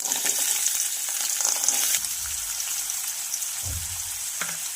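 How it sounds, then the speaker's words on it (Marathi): Tomato, green chili, onion and peanuts frying together in a pan with turmeric, a loud hissing sizzle that softens partway through, with a couple of brief low stirring bumps. No voices. "त्याचबरोबर हळदी पावडर आणि ही सर्व जिन्नस छान फ्राय करून घ्यायचे आहे"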